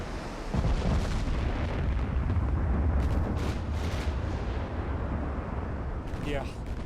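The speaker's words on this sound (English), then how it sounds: "These 18-inch guns, if we hit them, should just absolutely annihilate that battleship." Heavy 18-inch naval guns firing at a battleship in a video game, giving deep rumbling booms and a sustained roar, loud and close, with people talking over them.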